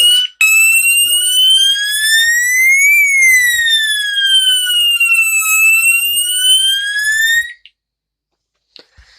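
A wall-mounted fire alarm horn strobe wired to 9 volt batteries sounds one loud, steady electronic tone. Its pitch sweeps slowly up and down for about seven seconds, then it cuts off into near silence.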